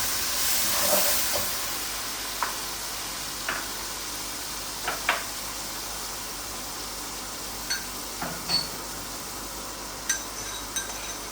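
Chopped onion sizzling in hot oil in a pan for a spiced taro and potato dish, a steady hiss with scattered sharp crackles and pops.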